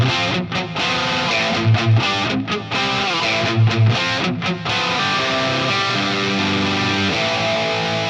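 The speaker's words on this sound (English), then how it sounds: "There is actually a second guitar track that I also recorded." Distorted 80s-style metal rhythm electric guitar through a Blackstar amp, a second recorded track of chugging palm-muted riffs with brief choppy stops, loud and up front with no voices.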